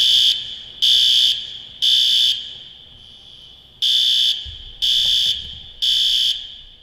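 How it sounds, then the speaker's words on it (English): Workplace fire alarm sounds in repeated loud electronic bursts, six evenly timed tones separated by short gaps, with no voices. "In the unlikely event that evacuation is necessary, the fire alarm will sound."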